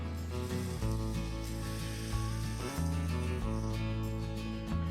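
Thick slices of vanilla bean French toast frying in a pan, a steady soft sizzle running quietly throughout with faint tonal background sound layered over it.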